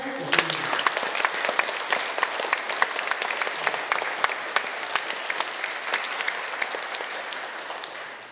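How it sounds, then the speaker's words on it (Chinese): A seated crowd at a children's Buddhist camp ceremony claps steadily for the children, a sustained wash of hand claps at moderate distance that fades slightly at the end. "来，我们给他们掌声鼓励"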